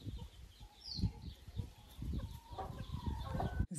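A broody hen sitting in a hatching box on day 21 gives soft, low clucks in an irregular series, close by, with a few higher faint chirps in the background.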